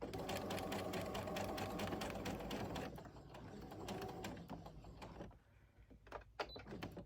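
Seams being stitched on a sewing machine, a fast, steady mechanical whir that runs for about three seconds and slows briefly before stopping, followed by faint handling clicks of the fabric and machine.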